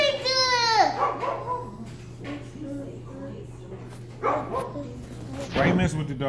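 A dog yelps, whines and whimpers close by in several short, uneven bursts indoors on a tile floor, mixed with people talking and a steady low hum.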